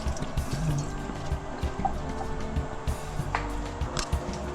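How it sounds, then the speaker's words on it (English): Water being added to a pan for boiling longganisa sausage in a home kitchen, a soft steady pouring and dripping trickle with light clinks, close and moderately quiet, no talking. "Add water to the pan"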